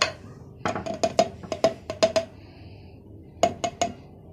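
Garlic going into a mortar amid kitchen utensils: a dozen sharp metallic clinks and knocks in uneven clusters, close and bright, with a pause before a final trio.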